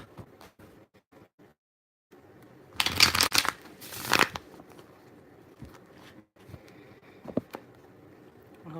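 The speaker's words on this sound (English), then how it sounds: "Okay, let's get them shuffle." Tarot cards being shuffled by hand, a near, brisk riffle burst lasting about two seconds amid soft handling taps and rustles, with quieter clicks and shuffles before and after.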